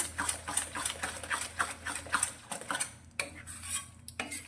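A sweet mixture with ginger powder being stirred in a kadai, rhythmic metal spoon scrapes and clinks against the pan at a steady pace, close and fairly quiet with no talking.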